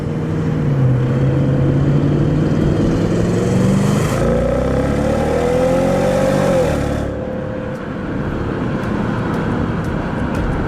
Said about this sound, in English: The induction noise and stuff coming from the front, not just the exhaust, sounds really good